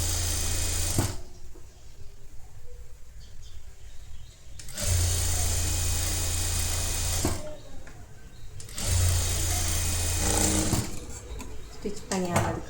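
A sewing machine stitches netted blouse fabric in three loud, steady whirring bursts of several seconds each, separated by pauses where someone talks quietly.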